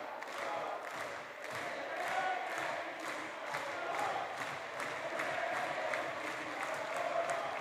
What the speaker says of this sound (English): Crowd here in Newcastle, England, getting behind one of their own.